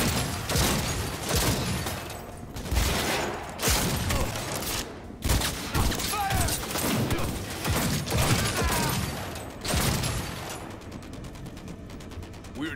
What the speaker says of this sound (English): Open fire! Now!